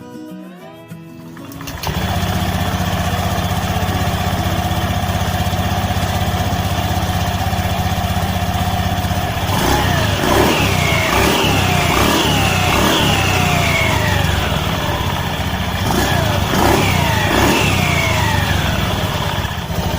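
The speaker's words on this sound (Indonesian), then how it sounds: "Oke, sekarang kita coba hidupkan ya." A Honda Beat Fi scooter with a scraped roller path in its CVT pulley starts up close by, settles into a loud steady idle, then is revved several times in rising and falling bursts before holding a high whine; nobody talks.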